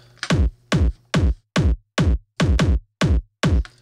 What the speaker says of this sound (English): I just wanted something quite dirty and quite rough for the intro kick